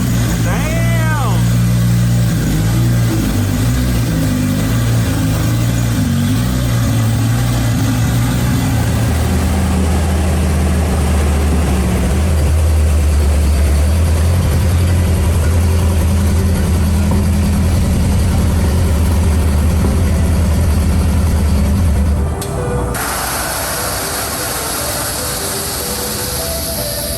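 A rowdy car engine idles loud and close with a deep, throbbing rumble, rising in a few revs before cutting off near the end, with people talking over it.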